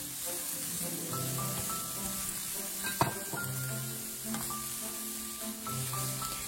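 Ham and sausages being stir-fried for Yangzhou fried rice give a steady close sizzle and hiss in the pan, with occasional clinks and scrapes of utensils.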